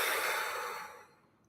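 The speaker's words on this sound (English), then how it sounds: "let's go ahead and take a deep breath in and then out," A single deep breath out during a calming breathing meditation, a soft airy exhale that starts fairly loud and close and fades away over about a second.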